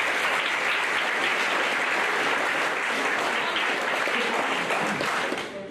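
A banquet audience at a high school spring sports banquet for track and golf applauds booster officers, with a steady, dense burst of clapping that holds for several seconds before tapering at the end.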